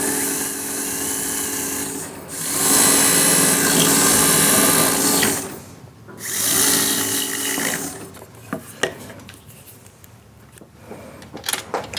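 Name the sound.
surgical implant drill preparing maxilla site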